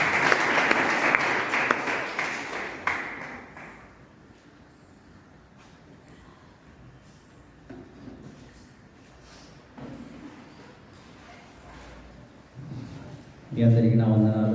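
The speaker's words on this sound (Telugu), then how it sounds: "అందరూ చప్పట్లు కొట్టు" Applause from a church congregation at a Christmas service, loud and sustained for the first few seconds before fading into quieter room noise; a voice speaks briefly near the end.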